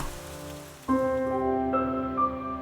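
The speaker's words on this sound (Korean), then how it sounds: "빗방울 소리에 하늘을 쳐다보다가도" Raindrops patter softly and steadily at the start, then continue faintly beneath gentle background music.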